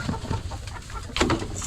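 Darag chickens on a farm cluck in short, close bursts, with a cluster of soft calls at the start and a louder, sharper cluck near the end, and no talking.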